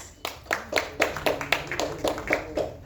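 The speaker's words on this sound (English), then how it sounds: "A big round of applause, please." A small audience at a film trailer launch event claps in a loose, rhythmic burst of hand claps, fairly close and moderate in volume, with no voices over it.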